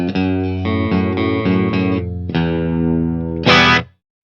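An electric guitar played through a Danelectro FAB chorus pedal, several sustained chords with a shimmering, wavering chorus tone, a final brighter strum, then abrupt silence, loud and close with no talking.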